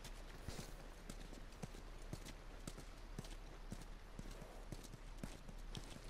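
Horse hooves clip-clop steadily in The Last of Us Remastered, a soft, regular walking rhythm over a constant background hiss, fairly quiet.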